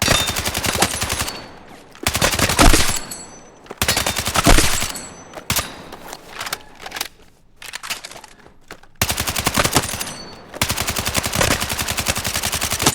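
Automatic weapon fire at targets in Battlefield 6, loud close bursts of rapid shots in several long strings separated by short pauses, with no talk.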